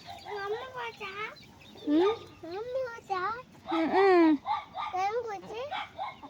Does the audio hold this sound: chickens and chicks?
yes